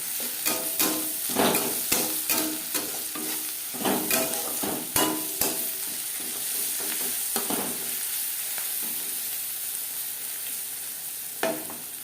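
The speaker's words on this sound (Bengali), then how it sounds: "সামান্য পরিমাণে হলুদ দিয়ে পেঁয়াজ লালচে করে ভেজে নেব" Onions fry with a little turmeric in a pan, giving a continuous moderate sizzle broken by repeated scraping stirs, close and without speech.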